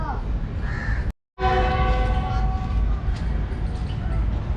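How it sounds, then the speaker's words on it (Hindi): A Pakistani passenger train at Kot Lakhpat railway station in Lahore sounds a long, loud, sustained whistle over steady rumbling engine noise, following a brief cut near the start. "ये जी विसल दे दिए इसने, अभी सेकंड विसल देगी"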